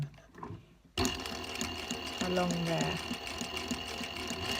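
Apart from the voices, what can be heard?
sewing machine stitching curtain weight pockets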